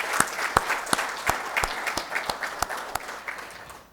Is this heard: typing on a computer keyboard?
no